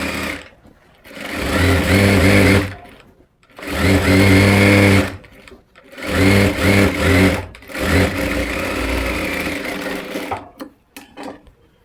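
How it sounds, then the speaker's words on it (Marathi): Loud bursts of a sewing machine stitching over earlier stitching on a palazzo pant pocket, running in four or five close runs with short stops in between. "मी आधीच्याच शिलाईवर शिलाई टाकणार"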